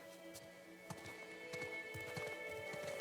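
Horse hooves clop in a rapid, uneven series of soft strikes inside The Last of Us Part II, layered over a steady tonal game score with no clear whinny.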